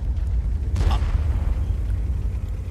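A tank cannon fires once in World of Tanks, a single booming report with a short crack, set against a constant low rumble of battle ambience.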